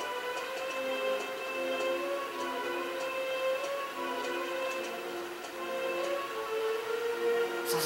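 A clock ticks in Dragon Quest VIII, regular soft ticks repeating at an even pace beneath a quiet, sustained musical backdrop, with no voices.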